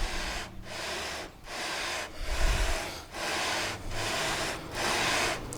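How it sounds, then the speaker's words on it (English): Sandpaper of 80 grit on a sanding beam is worked over a guitar neck's fretboard. About seven rhythmic rasping strokes come close and fairly quiet, each one separated by a short gap. "I've got 80 grit sandpaper on there now just to, kind of get the surface going first."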